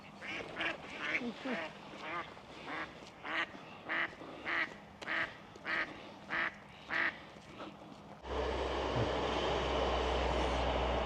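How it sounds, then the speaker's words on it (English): Ducks quack in a steady rhythmic series by lakes, then a local passenger train suddenly rushes past nearby with a loud, continuous rumbling roar. "The local train service just runs behind there"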